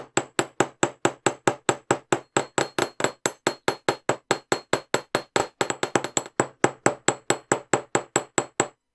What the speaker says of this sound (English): Now we want to hammer this flat.